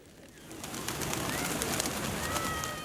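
White pigeons at the Blue Mosque shrine in Mazar-e-Sharif, Afghanistan, cooing and fluttering amid an outdoor crowd murmur, rising slightly in level and holding steady throughout.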